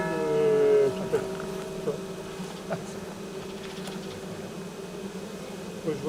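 A swarm of honeybees settled on the ground hums in a soft, steady drone, with a brief louder buzz near the start and faint scattered clicks, no voices.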